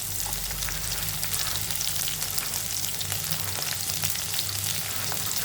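Onions and green chillies frying in a pan for okra curry, a loud, dense, continuous sizzle heard close up with no voices.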